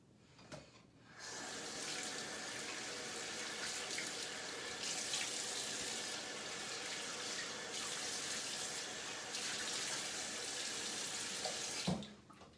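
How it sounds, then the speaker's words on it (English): Cool tap water runs steadily into a sink for several seconds to rinse a face, a continuous close splashing flow with no voices. "And then I will use cool water to rinse it off."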